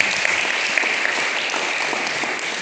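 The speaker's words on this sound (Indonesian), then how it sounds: "tepuk tangan Bapak" Steady, sustained applause from a church congregation at an evening worship service, many hands clapping evenly throughout with no pauses, moderately loud and close.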